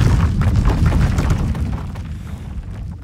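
A synthetic earthquake effect built with granular synthesis in Phase Plant: a dense, loud, crackling low rumble with grainy bursts that gradually thins and fades over a few seconds.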